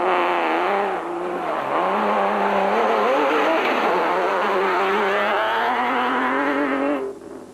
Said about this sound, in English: Cox is reveling in the power of the modified hardbody, and his enthusiasm shows as he gives it full rein